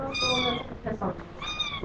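A stray cat meows close by, two drawn-out cries at the start and end with a brief, softer vocal murmur between them.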